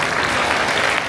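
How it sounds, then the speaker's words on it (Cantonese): An audience at a school Christmas party singing contest breaks into dense applause for a student, a loud, continuous burst of clapping from a crowd. "俾啲掌聲佢"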